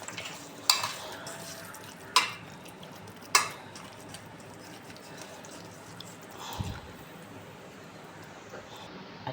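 Chicken being mixed with masala and oil in a bowl for chicken fry, quiet scraping and stirring with a few sharp clinks of a utensil against the bowl.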